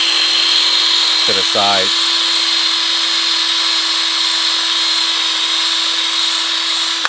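A power drill with a small bit grinds out a broken bolt in a steady, continuous high whine, with someone briefly speaking over it early on.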